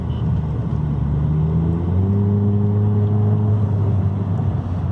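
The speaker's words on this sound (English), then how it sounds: "I definitely think this this car could rev a lot higher than its current state." Dodge Dart with a 2.4L engine and newly installed bored throttle body revs steadily, a close continuous engine drone with pitch climbing and holding under a constant low rumble.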